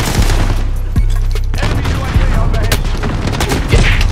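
Shotgun blasts and rapid gunfire in the Modern Warfare video game, dense loud continuous shooting with sharp booms throughout and a voice speaking briefly over it.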